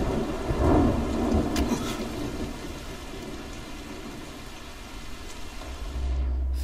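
Steady heavy rain pours down in the video game Dying Light while deep rumbles of thunder roll through, loudest early on, with no voices.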